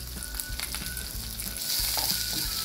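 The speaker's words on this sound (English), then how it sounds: "and we have to fry them real thin." Thinly sliced onion and garlic fry in a pan with a close crackling sizzle, brief stirring clicks and scrapes, then a fuller, louder hiss in the last second.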